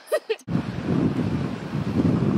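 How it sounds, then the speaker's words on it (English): Strong wind buffets the microphone with a loud, continuous roar after a couple of brief vocal sounds at the start. "It's too windy."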